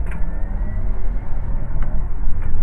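A Porsche Taycan Turbo S electric car drives with a loud, steady low drone and hum, faint whine shifting slightly in pitch, with no voices over it.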